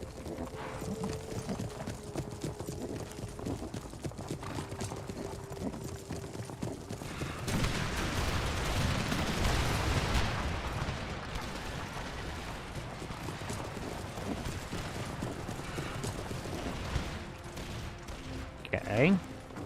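Battle sounds in the video game Empire Total War: scattered musket volleys and galloping hooves over a dense rumbling din, rising to a thicker burst of fire midway, while a player talks over it.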